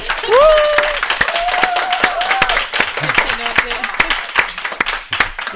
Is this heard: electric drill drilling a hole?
no